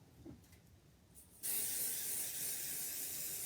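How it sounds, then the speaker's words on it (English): After quiet handling noises, a can of spray adhesive blasts onto a piece of quilt wadding in one continuous, close, loud hiss that starts abruptly and holds steady to the end. "So we'll spray the wadding again."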